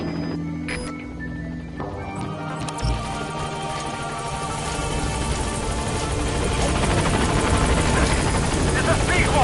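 The Pequod helicopter from Metal Gear Solid V approaches a landing zone, its rotor roar swelling from a low rumble into a loud, dense, steady thrum, with a voice speaking over the start.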